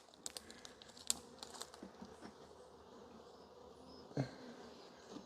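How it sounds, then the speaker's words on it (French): A bee, a fairly large one, buzzing outdoors as it flies past, faint and fluttering against soft background noise with a few light ticks and clicks. "Maintenant, c'est un abeille qui est un petit peu plus gros, il passe de l'autre côté."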